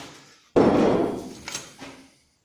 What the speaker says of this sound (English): Another file just landed at my feet.